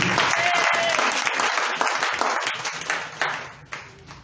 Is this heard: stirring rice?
no